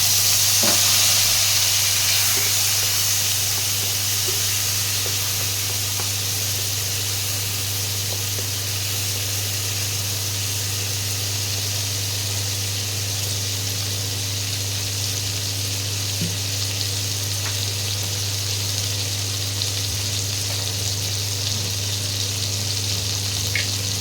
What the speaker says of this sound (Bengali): দুটো টমেটো কুচি এর মধ্যে দিয়ে দিলাম।